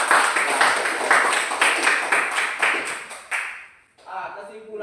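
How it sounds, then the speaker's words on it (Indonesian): Students in an Indonesian junior high school classroom applaud their classmates during a religion lesson, a burst of loud rhythmic clapping that fades out over a few seconds before a voice begins speaking. "kita dulu kasih aplaus untuk teman-teman kita"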